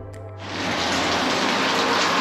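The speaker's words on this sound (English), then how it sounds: "It is raining today." Rain falls in Santa Cruz as a dense, loud hiss that starts abruptly after a brief moment and continues steadily to the end.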